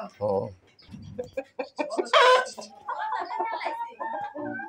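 Tiger and native (deshi) chickens cluck and squawk nearby in short bursts, with people talking over and between the calls.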